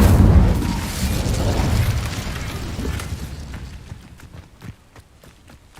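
An Incendio fire spell cast in the video game Hogwarts Legacy, a loud whooshing fiery burst that fades into crackling flame pops.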